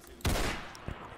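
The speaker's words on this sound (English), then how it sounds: "I'm just gonna shoot at him" Gunfire in a Roblox shooter game: one loud close shot with a short tail, followed by a fainter second report under low background noise.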